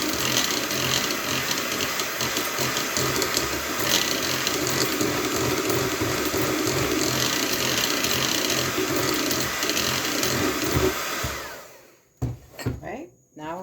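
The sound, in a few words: mixing cake batter with flour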